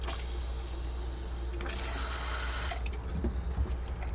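Water runs from a bathroom faucet in a 2021 Coachmen Beyond 22CEB RV, a faint steady hiss that swells into a brief louder gush of flow in the middle before easing back.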